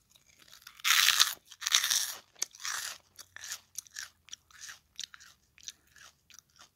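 Crunchy pork rinds bitten and chewed close to the microphone, loud sharp crunches at first easing into quieter rhythmic chewing, no talking.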